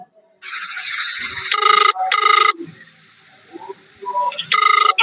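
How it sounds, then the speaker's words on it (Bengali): A telephone rings with an incoming call. The electronic ringtone comes in loud repeated bursts, close to the listener, with softer tones between the bursts. "এই যে তারা ফোন দিতাছে"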